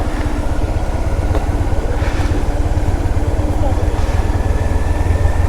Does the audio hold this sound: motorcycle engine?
yes